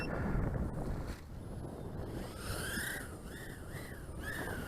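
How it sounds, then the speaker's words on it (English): Breezy outdoor wind of about 5 to 10 mph blusters steadily against the microphone during a line-of-sight test flight of an SPC Maker SPC 90S 90mm brushless FPV racer drone, with a whining motor pitch rising and falling in the second half. "We got some breezy conditions here with lots of clouds today."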